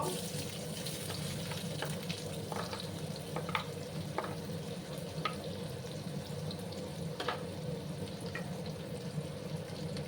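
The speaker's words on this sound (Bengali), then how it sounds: "পেঁয়াজগুলোকে কিন্তু একটু লাল লাল করে ভেজে নিতে হবে বন্ধুরা" Chopped onions frying in a pan for a potato curry, a steady, even sizzle running throughout with faint scattered stirring clicks, quiet and close.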